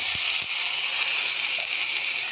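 Tomatoes hit a hot pan already holding ginger-garlic paste, setting off a steady, bright sizzle that runs unbroken and fairly loud throughout, with a couple of soft low knocks near the start.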